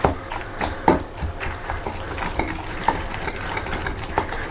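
Coarse pounding of ivy gourd chutney in a stone mortar gives repeated dull thuds and grinding scrapes, steady and close, at a moderate level with no talk.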